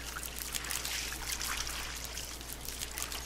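Shower water pouring in the jungle survival game Green Hell, an even, continuous rushing spray with a faint splashy texture, steady in level and alone without talk.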